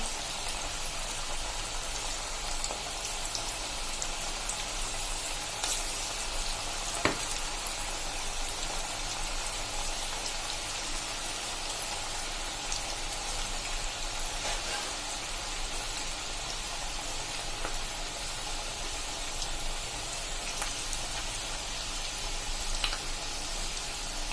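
Onion bhajias deep-fry in hot oil with a steady, dense sizzle that holds evenly at moderate volume throughout, with no talking and only a few faint clicks.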